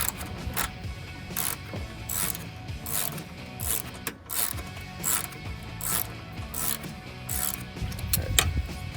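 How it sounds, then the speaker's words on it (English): A ratchet with a 13mm socket clicks steadily as it removes a car PCM bracket on an L Hemi Charger, with rapid repeated ratcheting bursts, close and clear, with no talk. "you get a 13mm socket and your ratchet. Then all you do is just remove this part right here"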